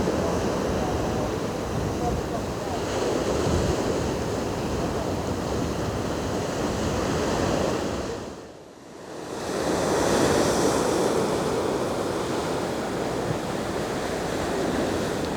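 Sea waves at Lady Bay in Clevedon, a loud, continuous surf wash mixed with wind, briefly dipping and then swelling back to full strength.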